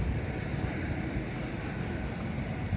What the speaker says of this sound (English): All this airplane, a lot of them are British Airways.